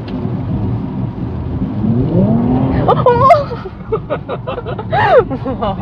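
A Nissan Skyline 400R at full throttle on a wet road in the rain, its engine note climbing strongly over the first few seconds before voices start talking over the car.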